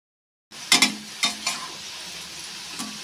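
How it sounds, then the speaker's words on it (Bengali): Sliced onions for birista stirred in hot oil over high heat, a constant sizzle broken by a few sharp scraping stirs near the start and one more near the end. "যতক্ষণ না ব্রাউন হয়ে মুচমুচে হয়ে আসছে ততক্ষণ অবধি হাই হিটে এইভাবে নাড়াচাড়া করতে থাকবে।"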